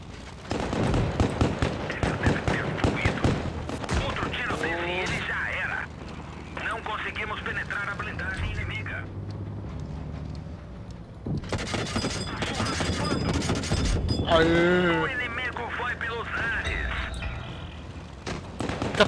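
Tank gunfire in World of Tanks Blitz from a BT-2 Russian light tank, with several loud cannon blasts and explosive booms in bursts, mixed with game sounds and a player talking throughout.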